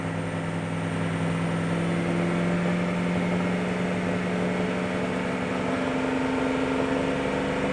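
A 2006 Ford 6.0 Powerstroke diesel that runs rough holds a steady drone at around 2,500 RPM, loud and continuous with a constant hum and no voices.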